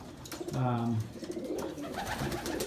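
A pigeon coos close by in a low, throaty rolling burst, with background chatter and bird noise around it.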